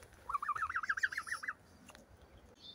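A gosling at a park lake gives a rapid run of high, thin peeping calls for about a second, fairly close and clear over quiet outdoor background, followed by a few faint knocks.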